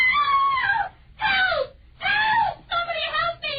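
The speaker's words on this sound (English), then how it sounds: "What was she screaming about, mister?" A woman in a radio drama screams in long, wailing bursts, four or five loud cries separated by brief pauses, close and alone.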